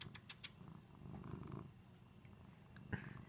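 A cat purrs close by in a rumbling, pulsing rhythm, with a few sharp clicks at the start and a soft thump near the end.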